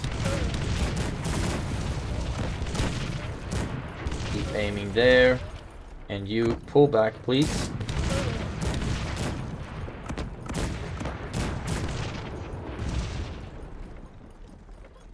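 Multi-barrel cannons fire in the video game Cossacks 3 as a rolling battle barrage of booms and rapid volleys under the player's steady commentary.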